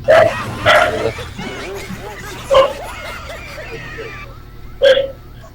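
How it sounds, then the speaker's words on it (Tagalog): A dog gives several short barks, a pair near the start and single ones later, with a soft background murmur throughout. "Aso ang tumahol."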